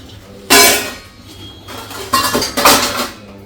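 A child tosses pots, pans and utensils out of a kitchen container, giving loud metallic clattering crashes, one burst near the start and a cluster of rattling clanks toward the end, close by.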